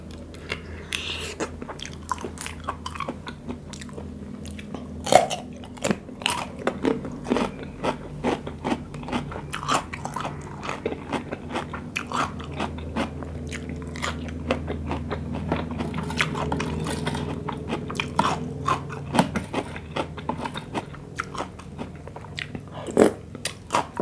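Close, crunchy bites and chewing of a Thai cockle salad with salted egg yolk and sour mango, repeated bites and mouth sounds throughout at an even, moderate level with no talking.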